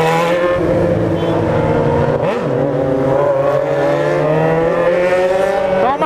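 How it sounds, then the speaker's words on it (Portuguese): Dense engine noise from São Paulo city traffic, steady and loud throughout, with rising and falling engine tones as cars and motorcycles accelerate close by. "O trânsito é forte mesmo."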